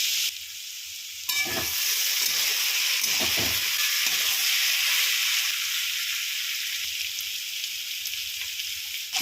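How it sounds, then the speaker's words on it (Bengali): Cumin, bay leaf, dried red chili, asafoetida and garam masala spit and crackle in hot oil for a pea ghugni tempering, a loud continuous sizzle with a few stirring knocks near the start, no talking. "জিরে তেজপাতা শুকনো লঙ্কার পরে একটু হিং আর একটু গরম মশলা ফোড়নে দিয়ে দেবেন"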